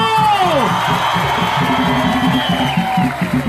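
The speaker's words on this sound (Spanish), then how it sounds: "fuerte el aplauso para Gustavo Petro" A large crowd at a political rally in Medellín cheers and whoops loudly, with shouts and applause blending into a sustained roar, over steady background music.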